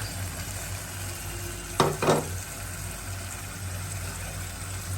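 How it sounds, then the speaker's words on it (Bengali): Raw poa fish sautés with tomato in a pan, giving a steady low sizzle with two brief, louder bursts of spattering around the middle and no voices. "এখানে মাছটি কষাই নিচ্ছে"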